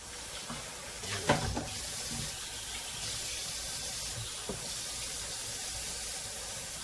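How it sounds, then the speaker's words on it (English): Fresh water runs steadily from a tap into a container in a kitchen, a continuous splashing hiss with a brief louder gush near the start. "I'm going to put some fresh water in here."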